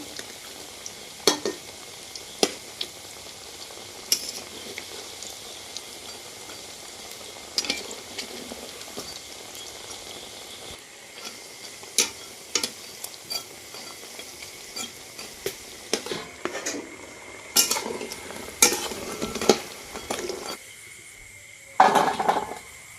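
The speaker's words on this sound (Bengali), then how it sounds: "এবার অপর দিকটা ভেজে নেব উল্টিয়ে" Semolina sweets turned over to fry their other side in hot oil, giving a steady soft sizzle with scattered stirring and utensil clinks, a few sharper scrapes near the end, and no talking.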